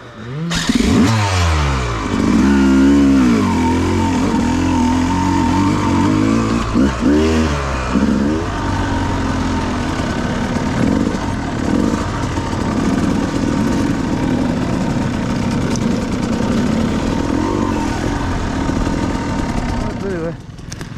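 Several motorbike engines ridden by kids rev up and fall back near the start, then settle into a continuous loud drone and idle for a long stretch, with people talking over the engine noise.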